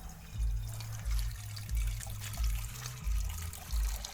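Water pours in quiet repeated bursts with a faint rhythmic gurgle, filling a pot for cooking noodles on a trip in Benguet.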